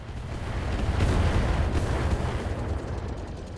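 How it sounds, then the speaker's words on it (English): Incoming missiles strike a mech in a BattleTech-style video game as a heavy, rumbling series of blasts that swell and then settle into a sustained low roar, with no talking. "Here comes some more missiles."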